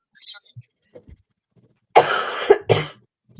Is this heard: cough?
yes